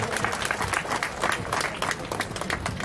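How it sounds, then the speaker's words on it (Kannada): An audience at a police passing-out parade claps in a steady burst of applause that holds for the whole stretch, sounding moderately distant. "ಎಲ್ಲರೂ ಚಪ್ಪಾಳೆ ಮೂಲಕ ಅಭಿನಂದಿಸಲು ಕೋರುತ್ತೇನೆ."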